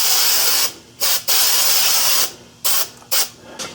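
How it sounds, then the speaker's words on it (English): Fluid Film rust inhibitor sprayed from an aerosol can onto a brake hub of a Ford Escape during front brake work, heard as several close hissing bursts of varying length separated by short pauses. "I'm just going to spray it down with some fluid film"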